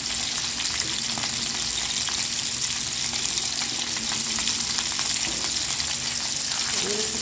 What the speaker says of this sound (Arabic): يعني نحطيها هيك شوي بس بالزيت عشان ما يصير محمر